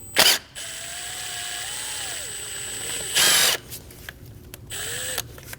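A power tool spins loose T30 valve cover bolts on a 2012–2022 Volkswagen Passat 2.5L five-cylinder: short, sharp whirring bursts up close, separated by quieter gaps filled with a faint steady hum.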